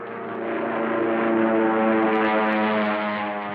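World War II Wildcat fighter planes drone overhead in a loud, steady propeller-engine hum that swells and holds, with no voices over it.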